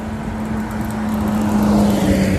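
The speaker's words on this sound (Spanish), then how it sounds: "este no se va a contar porque es un camión de trabajo" A work truck rolls by on a street, a continuous engine rumble with a sustained low drone that grows slightly louder as it approaches, alone without talk.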